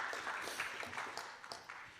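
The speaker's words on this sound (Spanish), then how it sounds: "Dele un aplauso al Señor" A church congregation applauds the Lord, a faint, dense wash of clapping heard from a distance that holds steady for about two seconds.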